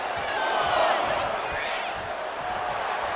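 Video game wrestling crowd at a WWE Crown Jewel 2024 match, a steady roaring arena cheer that swells briefly and holds as a dense wash, with faint commentary-like voices mixed in.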